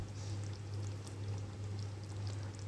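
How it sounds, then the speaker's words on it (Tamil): A spoonful of ghee trickles over cauliflower rice in a covered pot on low heat, a faint soft pour and sizzle under a steady low hum. "ஒரு ஸ்பூன் நெய் மட்டும் மேலே விட்டுருவோம்"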